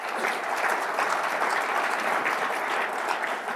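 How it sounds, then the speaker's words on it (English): A convention audience applauds in a sustained, even burst of many hands clapping together, fairly close and moderately loud with no voices rising above it. "Give him a round of applause."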